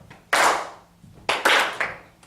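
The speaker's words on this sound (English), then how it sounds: "Does everybody know how to clap it?" A choir class claps a rhythm together in unison: separate bursts of group hand claps, a single strong hit then a quick cluster of three, close and crisp with quiet gaps between.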